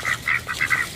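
Ducks, including mallards and pekins, quack in several quick bursts close by, loud and clear over quiet background.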